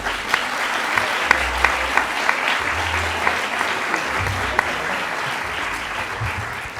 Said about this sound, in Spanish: pues un aplauso para Verónica.